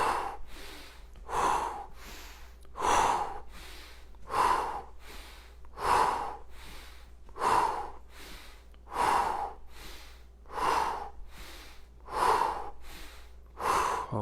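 Heavy rhythmic breathing during a home workout warm-up, about ten deep huffing breaths at a steady two-second pace, close and loud over a low background hum.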